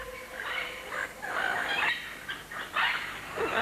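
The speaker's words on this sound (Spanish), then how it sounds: "Un pavo real sube las escaleras para contemplarlo." A peacock calls at dusk in the Tikal jungle of Guatemala: several harsh, loud bursts in quick succession, alone without talk.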